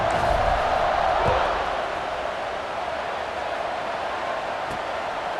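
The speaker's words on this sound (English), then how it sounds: "this crowd is buzzing after that last score" Stadium crowd in the College Football 26 video game, a dense steady roar that swells slightly early on and then holds at a constant buzzing level throughout, with no clear speech on top.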